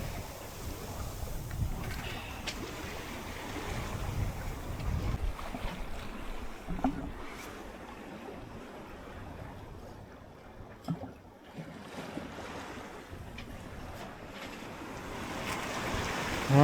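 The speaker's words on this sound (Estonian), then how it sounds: "üle 2 tunni oleme sõitnud ja lainetus läheb veidi suuremaks" Waves wash around a sailboat at sea on a trip from Neeme harbour, a continuous rolling swash of water with wind noise, fairly loud and steady, with no one talking.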